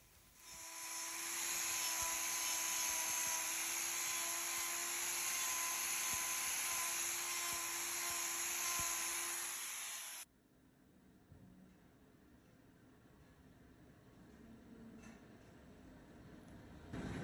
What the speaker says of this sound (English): I'm going to use my grinder here to give us a bigger access point to get all of these rocks out of there.